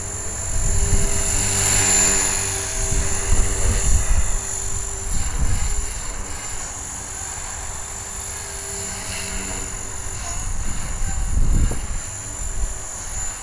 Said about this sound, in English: Oh, I really like this helicopter.